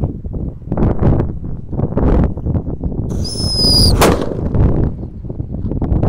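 A Happy Power 3 firework set off inside a hole in the ground bursts with a sharp, loud crack amid rumbling blasts, preceded by brief whistling and followed by continued popping and crackling outdoors.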